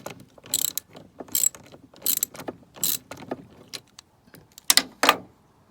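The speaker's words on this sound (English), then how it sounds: "Just take a 10mm socket," A 10mm socket ratchet loosening a battery cable bolt on an R56 Mini Cooper S, sharp clicking ratchet bursts repeating in quick strokes, close and loud with short pauses between.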